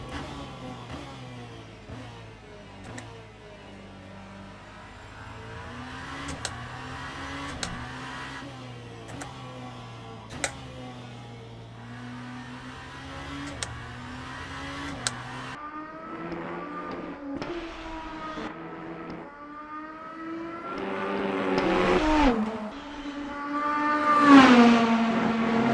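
A hypercar engine on a lap in the Le Mans Ultimate racing game, holding a strong steady drone with sharp gear shifts that rise and fall in pitch, climbing to a loud rev near the end.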